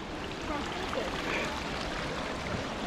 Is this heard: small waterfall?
yes